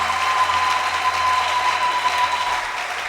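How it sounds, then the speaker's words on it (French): Clapping rises from a church congregation as acclamation praise during a worship service, steady and full, sustained evenly for a few seconds with little else audible. "Nous allons approcher le Saint-Esprit par une louange d'acclamation."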